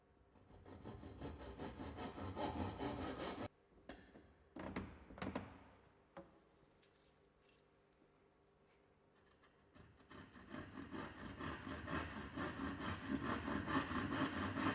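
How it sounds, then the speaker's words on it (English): Tenon saw cutting a wooden skirting board, rapid rhythmic back-and-forth rasping strokes, then a pause with a few knocks and handling thumps before the sawing resumes and grows louder, close up with no talk. "Continue to use the tenon saw to make as many straight saw cuts as possible while rotating"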